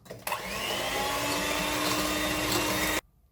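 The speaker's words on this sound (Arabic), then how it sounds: "غادي نطلعو لا كريم ديالنا كيف ديما" An electric mixer whips cream for an English-cream cheesecake, a steady loud whirring drone that starts abruptly, runs unbroken for under three seconds and cuts off sharply.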